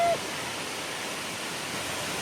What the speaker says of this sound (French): on arrive à la cascade Grand Galet